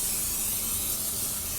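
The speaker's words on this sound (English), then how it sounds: "I'm going to spray the outside" Cooking spray hisses in a steady continuous burst onto the outside of two upside-down stainless steel bowls, one small and one large, close and fairly loud with no talk.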